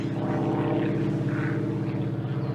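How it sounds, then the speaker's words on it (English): Steady propeller-engine drone of a biplane passing overhead above woods, a continuous low hum with layered harmonics, moderately loud and without voices. "not even a helicopter, it's a biplane up there."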